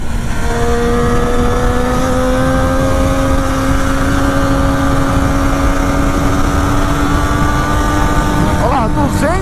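A 2009 Triumph Daytona 675 motorcycle accelerates hard at high speed, its engine whine rising steadily in pitch under strong wind roar, loud and close, with a gear change near the end.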